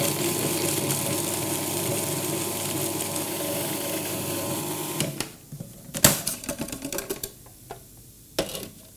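A food processor spins a blend of Himalayan pink salt, broken-down herbs and orange zest, a steady motor whir for about five seconds that then stops, followed by scattered clatters and knocks.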